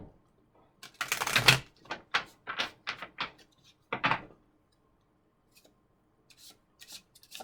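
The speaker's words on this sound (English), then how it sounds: "I'll give these ones a quick shuffle here." Tarot cards are shuffled in a handful of quick, crisp riffling bursts, close and fairly quiet, followed by a few faint card taps.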